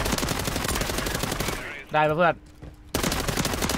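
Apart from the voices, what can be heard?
dual Uzi gunfire in Warzone video game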